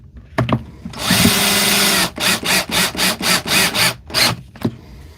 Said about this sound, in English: 54 volt draper screwdriver.